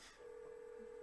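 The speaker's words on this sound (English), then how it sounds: "The phone's always ringing off the hook here." Office telephone ringing, a single steady electronic tone sounding briefly and quietly after a short noisy onset, with no voices.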